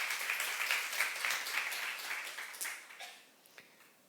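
A church youth congregation claps during a sermon, a moderately quiet burst of applause with scattered individual claps that gradually dies away over a few seconds.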